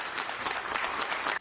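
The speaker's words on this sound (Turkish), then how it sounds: "coşkulu alkışlarla gösterdi" Applause from balconies in Turkey for health workers, a brief, moderately distant wash of many hands clapping with no voices on top.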